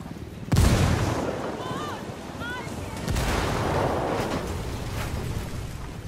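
A frag grenade explodes in the video game Ghost Recon Wildlands, a sharp, loud boom followed by a long rumbling tail with scattered distant gunfire.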